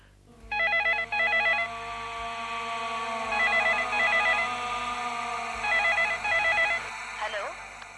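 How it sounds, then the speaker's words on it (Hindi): A telephone rings in repeated bursts of a trilling electronic bell, loud and close, over a low background hum with faint movement at the end. "For God's sake, pick up the phone."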